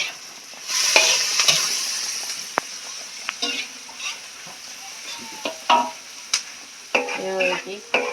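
Spices (chili, garlic, shallot, candlenut, pepper) sizzling and frying in a pan with scraping stirs and clinks of a utensil against metal, close by, no talking.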